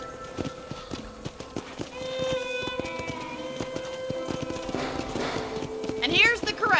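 Horse hooves clip-clopping at a ranch corral in the western game Red Dead Redemption, a steady trotting rhythm with a brief whinny near the end, heard over game music and voices.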